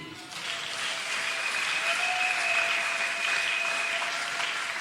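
Congregation in a church applauding steadily throughout, a dense continuous wash of clapping from many hands, with a faint sustained tone running beneath.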